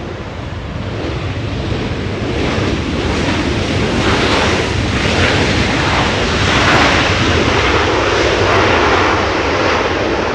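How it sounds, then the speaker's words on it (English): French Bee Airbus A350-900 jet landing at Los Angeles International Airport, a loud continuous engine roar with heavy wind rumble that builds slightly and holds throughout, no talking. "That is French B, that's an A350-900 landing in the south."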